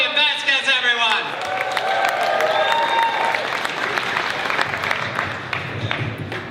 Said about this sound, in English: Please give a warm round of applause for Dorian Vasquez, everyone!